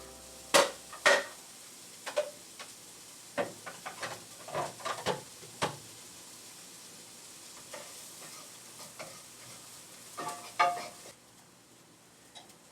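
Onions being stirred into hot grease in a pan while making beef bourguignon, giving a steady low sizzle broken by repeated scraping and stirring clatters, close and fairly quiet, with no talking.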